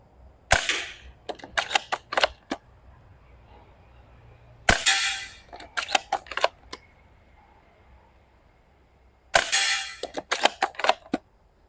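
Three shots from an EMG/APS Barrett Fieldcraft gas airsoft sniper rifle, each a sharp close crack followed by a quick run of short clicks and rattles, spaced about four to five seconds apart with quiet between them.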